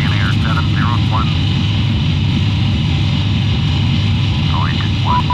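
Boeing 787-9 engines roaring in reverse thrust during a landing rollout in Flight Simulator X, a loud steady broadband rumble throughout, with faint radio chatter and chirps over it.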